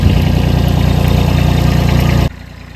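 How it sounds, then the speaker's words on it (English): A tractor engine runs loud and close while digging a hole in a garden, a steady chugging idle with a regular low pulse that drops abruptly to a quieter rumble near the end. "we're just using the tractor to dig the hole so we don't have to do it by hand"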